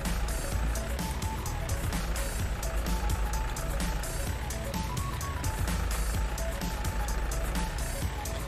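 A farm vehicle heading back to the farmyard in Farming Simulator 19 on the Erlengrat alpine map, its engine rumbling steadily while a repeating beep pulses throughout.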